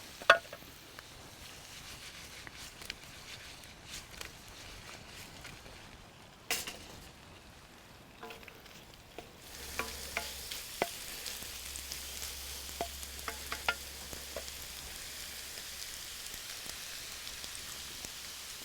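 Potatoes crisp as they fry in a pan over a woodland campfire, giving a soft, steady sizzle and crackle with scattered pops, quiet at first and then fuller and denser toward the end.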